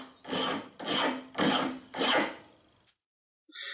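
A hand file rasps along an axe edge clamped in a vise, four loud, even strokes about half a second apart, each a harsh scraping burst, followed by a brief pause and the start of another stroke.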